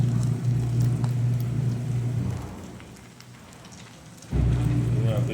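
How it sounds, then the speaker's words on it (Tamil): Mint and coriander leaves frying in oil over onion and garlic for a tangy mint chutney, a steady broadband sizzle that dips quieter midway and then surges back loud. "இதுவே அப்படியே போட்டு கொஞ்சம் வதக்கணும் எண்ணெயில்"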